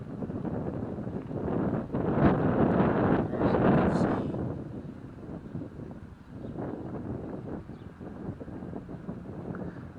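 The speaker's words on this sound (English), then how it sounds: "the wind is blowing" Wind gusts across a microphone outdoors in a park, a continuous loud low rumble that swells and eases over ten seconds, with faint rustling underneath.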